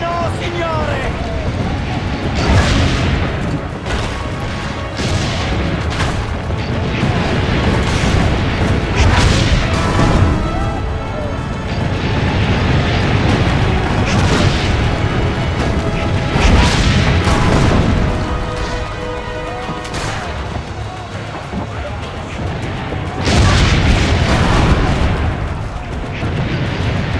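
Heavy booming cannon blasts repeat every few seconds amid ongoing battle noise in Assassin's Creed Brotherhood during the attack on the villa, loud and close, with voices talking underneath.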